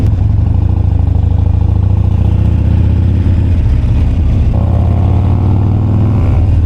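Sport motorbikes with full exhaust systems rumble loudly nearby, a deep continuous engine drone with a revving swell partway through, no voices.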